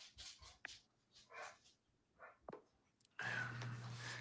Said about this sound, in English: why the dogs bark so loud